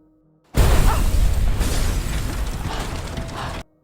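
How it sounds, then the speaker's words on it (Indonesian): A car bomb's loud explosive blast bursts in suddenly and roars on for about three seconds, with crackling debris, before cutting off. "Dan yang meledak adalah mobil Karadec"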